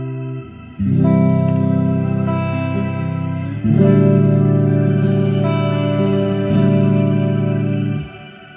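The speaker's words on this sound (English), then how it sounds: "This is a reverb pedal, but it's got this cool shimmer." Sustained, shimmering guitar chords through a shimmer reverb pedal wash out with a lush, echoing tail, swelling again around the middle and ringing until a clean cutoff near the end.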